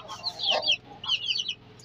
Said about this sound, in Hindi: और ये छोटे वाली मुर्गी देखे